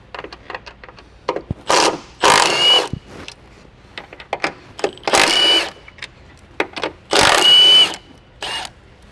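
A 13mm socket drives off the upper strut mount nuts during a Ridetech coil-over install on a Dodge Charger or Challenger, in repeated loud mechanical bursts separated by short pauses.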